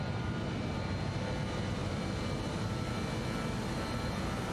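Engine rumble of a BAe 146-300 airliner in Microsoft Flight Simulator fills the cockpit, an even, unbroken low roar with a thin high whine layered on top.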